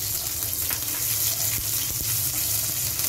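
Green chillies frying in hot oil with cumin and asafoetida over a medium flame, a dense, steady close sizzle and crackle with a low stove rumble underneath, no talking.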